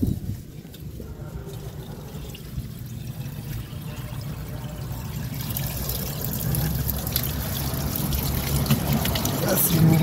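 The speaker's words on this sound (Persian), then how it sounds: "آب میریزید تا دوباره آشغالا خالی بشه" Water poured into a car engine part while the water pump is being replaced, flushing debris out; a steady trickling and splashing that continues throughout and grows slightly louder toward the end, with faint voice in the background.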